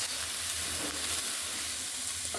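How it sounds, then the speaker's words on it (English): Onions frying over medium-high heat in avocado oil in a hot pan, a steady, fairly quiet sizzle that holds evenly throughout with no talking. "Just let these cook up a little bit, translucent. See how they're cooking really quick? It's called a hot pan."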